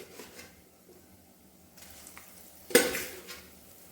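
Patra pieces drop into a hot tempering of curry leaves and sesame seeds, setting off a sudden loud sizzle after a quiet stretch, then fading into softer frying and stirring.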